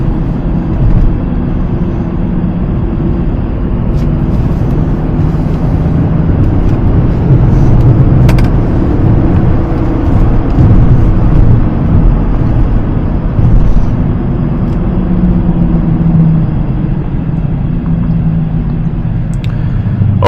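Mercedes-Maybach GLS 600 SUV on the move, a steady low engine and road rumble with tyre noise that stays loud and even throughout, no talking.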